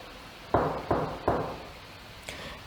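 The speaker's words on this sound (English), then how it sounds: "The wolf came to the door and knocked just like he did before." Three firm knocks on a door in quick succession, close and distinct, followed by a fainter fourth tap after a pause, in a quiet room.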